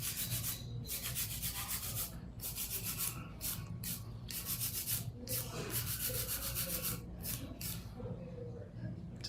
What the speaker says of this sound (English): you just gotta go quick hand file